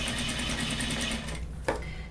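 Sewing machine stitching along a corset boning channel on a jean corset, a quiet, rapid, even whir that stops partway through, followed by a brief knock.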